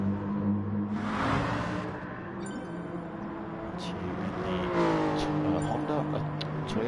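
A Gr.3 race car engine in a racing video game at Circuit de Spa-Francorchamps, revving and sweeping up through the gears as cars pass during a hot lap, loud and continuous under a commentator's steady talk.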